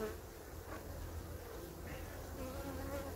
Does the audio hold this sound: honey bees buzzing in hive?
yes